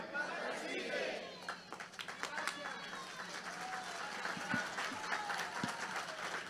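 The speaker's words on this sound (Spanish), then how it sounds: "Bueno, un aplauso" Lecture attendees applaud after a talk on the commune and civilizational crisis, a fairly faint but sustained crowd clapping with scattered sharp claps and some chatter mixed in.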